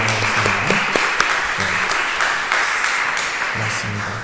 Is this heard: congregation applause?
yes